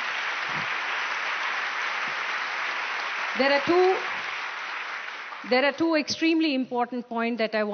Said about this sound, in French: Mais allez-y, applaudissez-les.